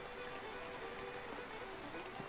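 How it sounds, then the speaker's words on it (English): Rain falls steadily in the Medieval Dynasty video game on a foggy, gloomy day, making a faint, continuous patter with no voices heard. "It's foggy and rainy, gloomy day"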